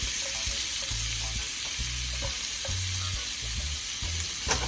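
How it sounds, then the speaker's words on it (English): Butter and fresh garlic sizzle steadily in a hot skillet, a close, even crackle that runs the whole time with a few soft low thumps underneath and no talking. "we're gonna add some butter, about 3 tablespoons of butter to our skillet, along with some garlic"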